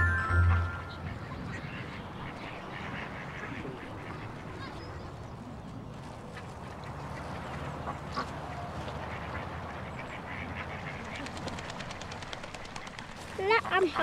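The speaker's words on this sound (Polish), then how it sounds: "A to są śliczne kaczątka." Ducklings quacking in a children's television scene, a few soft quacks and honks heard near, while a narrator speaks over them.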